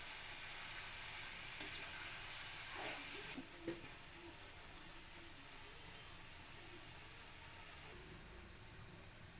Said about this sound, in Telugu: ఇప్పుడు దీనిని మొత్తం కలుపుకుని ఆయిల్ సపరేట్ అయ్యేంత వరకు ఉడికించుకోవాలి